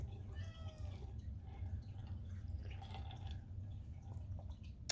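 A cat meows softly a few times in a quiet room, faint and close, with low background hum and no talking.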